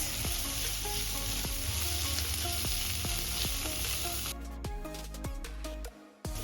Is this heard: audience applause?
no